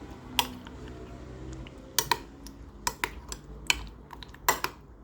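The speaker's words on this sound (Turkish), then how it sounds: "Karıştırıyorum." A metal spoon stirs a dish, making sharp, irregular clinks against the bowl, several in quick succession, close and fairly quiet over a low hum.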